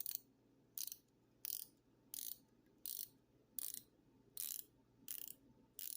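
A Steeldive SD1953 dive watch bezel turns in a run of crisp, quiet ratcheting clicks, eight or nine short bursts at a steady pace, close up and alone with no voices.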